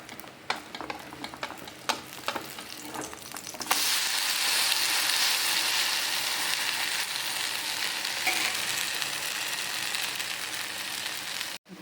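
Bun dosa frying in a pan over a medium flame, a steady loud sizzle that swells after a few seconds of quieter crackling and scraping, then holds strong and even until it cuts off.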